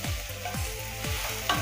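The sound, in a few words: onions frying and being stirred in pan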